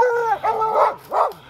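A small mini Aussie dog on a mountain lion hunt barks at the big cat treed above, giving several close, loud yapping barks with short whiny tails in quick, uneven succession and no talking.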